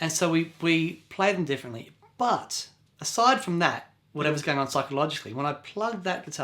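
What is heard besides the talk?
No distinct noise like a dog, phone or traffic.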